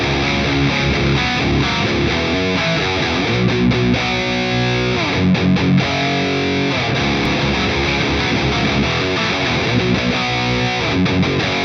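A heavily distorted electric guitar plays a chugging rock riff twice, first at a slower pace and then again at full tempo.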